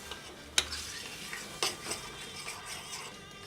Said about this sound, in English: All right, so we're frying this out.